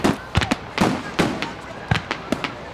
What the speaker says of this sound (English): So we decided to go back to Provincetown and celebrate with fireworks.